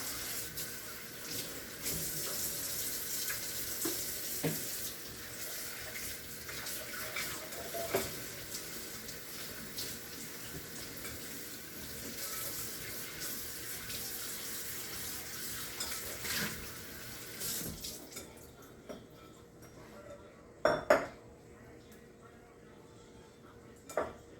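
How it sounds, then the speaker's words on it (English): A bowl is rinsed under a running kitchen tap, with water gushing steadily for most of the time before shutting off, followed by a few close clinks of the bowl in the sink. "Wash my bowl out."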